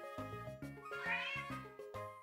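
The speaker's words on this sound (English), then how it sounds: "There's a cat clawing at a door" A game-style cat meow in Pokémon HeartGold, a series of bright, tonal electronic notes rising and falling over about two seconds, quiet and heard alone.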